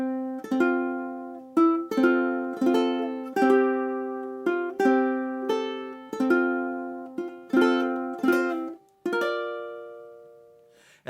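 Strummed and plucked ukulele chords in GCEA tuning ring out one after another in a slow melodic Christmas arrangement, each chord struck cleanly and left to decay, with no talking.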